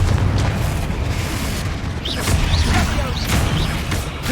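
Confringo fire spell blasts in Hogwarts Legacy combat, a rumbling run of booming explosions with sharp bursting pops and crackles layered over a low continuous roar, loud and close.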